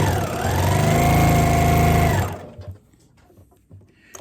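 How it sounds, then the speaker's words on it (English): A sewing machine runs an edge stitch around a fabric beard mask, buzzing in a fast, loud, steady burst for about two seconds before stopping, then a few soft handling clicks follow. "I'll keep sewing the whole piece all the way around using an edge stitch."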